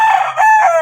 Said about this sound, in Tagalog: Kokorokok, di ba, manok?